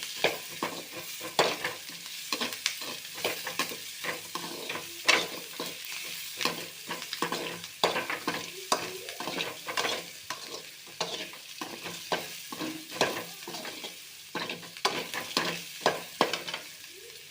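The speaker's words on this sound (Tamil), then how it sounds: "கொஞ்சம் பொன்னிறமாக வதங்கட்டும்." Curry leaves sauté in a pan until golden for karuvepillai thokku, with a continuous crackling sizzle and frequent close spatula scrapes at a busy, uneven pace, with no talk.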